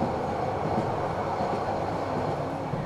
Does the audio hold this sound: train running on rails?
yes